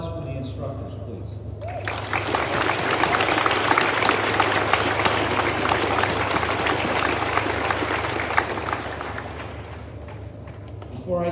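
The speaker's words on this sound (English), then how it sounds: "How about a round of applause for the instructors, please?" Loud, sustained applause from a large crowd at an Officer Candidate School graduation, beginning abruptly after a brief quiet moment and continuing steadily with dense clapping throughout.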